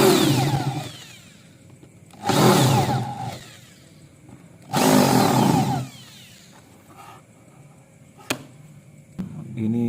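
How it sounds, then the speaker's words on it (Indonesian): A countersink drill bit boring holes in acrylic sheet on a simple woodworking jig, heard as three loud grinding bursts of about a second each with quiet gaps between, then a few sharp clicks. "kita pelengseng menggunakan bor pelengseng ya."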